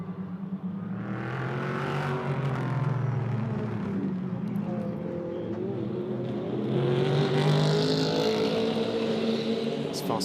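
GT3 race cars at Magny-Cours roar past on track, their engine notes climbing and falling through the gears at middle distance beneath a commentator's voice.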